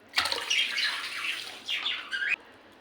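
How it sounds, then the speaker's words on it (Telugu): Water poured from a glass onto rice in a pot makes two close splashing pours, the first longer and the second shorter, each ending abruptly against a quiet background. "అదే గ్లాస్తో 3 గ్లాసులు వాటర్ వేసుకుంటున్నాను"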